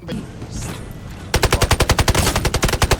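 Rapid automatic gunfire from Delta Force Mobile bursts in after a second of quieter game noise, a fast loud string of evenly spaced shots running to the end.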